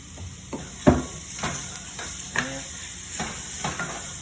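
Garlic sizzles in hot frying oil with a soft, constant hiss, while a utensil stirs the pan in several distinct scraping strokes, close up and with no voices.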